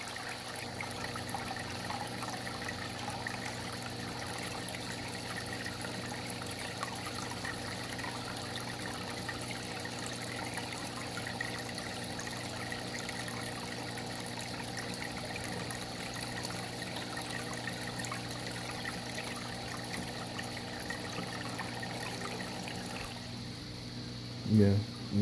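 Water runs steadily into a 55 gallon fish tank during a refill, a continuous even rushing and trickling that stays constant for the whole stretch, with a brief knock near the end.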